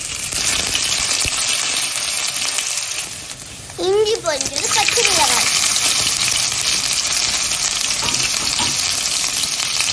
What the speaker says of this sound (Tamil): நல்லா சூடான பிறகு மிளகை போட்டு பொரிய விடணும்